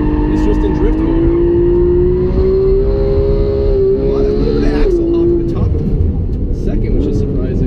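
A Porsche 911 GT3 in drift mode slides around a figure-eight course, its engine holding a loud, steady high-revving drone with a brief dip and recovery, tires hissing underneath, with talking over it.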